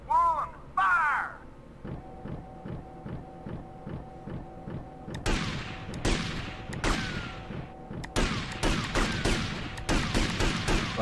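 Gunfire on a shooting range in GTA Vice City, a run of sharp broadband shots with ringing tails from about five seconds onward, following a steady rhythmic ticking and an opening voice.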